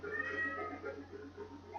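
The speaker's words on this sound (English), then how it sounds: "You're gonna meow too?" A cat meowing close by, a drawn-out wavering cry that rises and falls continuously over a steady low electrical hum.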